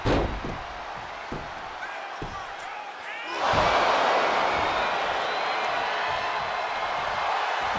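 A leg breaker slam in the WWE 2K24 wrestling video game lands with a heavy thud, followed by a loud surge of arena crowd noise and cheering that holds steady after the impact.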